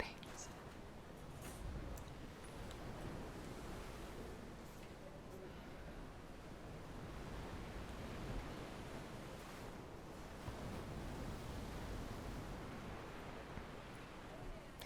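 Steady wash of ocean waves and surf along a seaside shore, a continuous broadband hiss with gentle swells, holding even and moderately close for the whole stretch.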